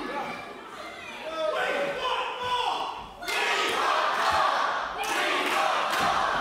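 A packed crowd at a live wrestling show in the Racing Centre in Newmarket cheers and shouts loudly, rising in waves with a sharp surge midway, with chatter and a commentator's voice mixed in.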